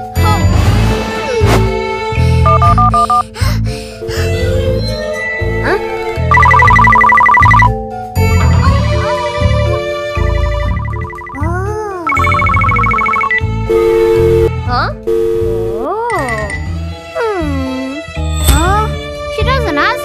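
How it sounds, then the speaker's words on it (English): A phone rings on and on without being answered, its electronic ringtone sounding over bright, busy music with no voices. "She doesn't answer the phone."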